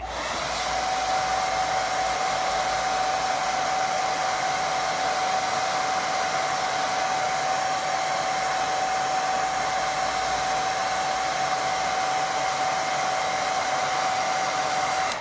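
A hair dryer drying a watercolour painting runs loud and steady at close range for about fifteen seconds, giving a constant airy roar with a sustained whine over it and no speech.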